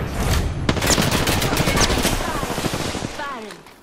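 Rapid automatic gunfire in Apex Legends, loud and sustained for several seconds. The sharp cracks run in a steady stream and fade toward the end as a voice calls out.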